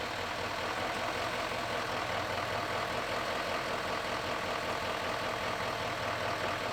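A 2019 GMC Sierra Denali pickup truck's engine runs steadily at idle, a continuous low rumble with a broad hiss on top, even and unbroken throughout with no talking.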